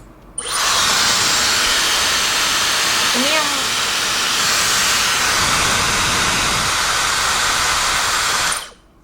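A Dyson Supersonic hair dryer runs at its highest airflow setting, a loud, steady broadband whoosh of air that starts abruptly, holds evenly for about eight seconds, then cuts off, with a brief voice-like murmur partway through.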